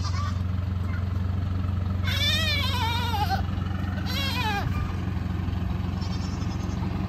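Goats in their shelter bleat twice, each a long wavering cry a couple of seconds apart, close and loud over a constant low mechanical hum.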